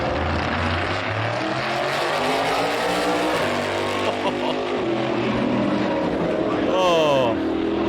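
NASCAR race car engine roaring at Le Mans, a loud continuous drone with shifting pitch as the car passes, and a rising and falling whine near the end, with voices talking over it.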